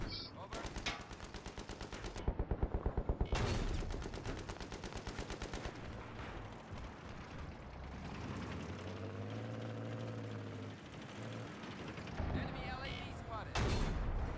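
Rapid bursts of Battlefield 3 gunfire, a fast automatic rattle followed by louder single shots, with a low engine-like drone and game sound effects underneath.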